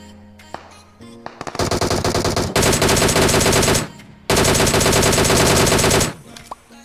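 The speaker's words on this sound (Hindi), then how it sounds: "सामने तो कुछ फायरिंग साउंड आते हैं" Machine gun fire in a mobile shooter game: loud, rapid automatic bursts, two long sustained volleys separated by a short pause, close and dominant, with no talk.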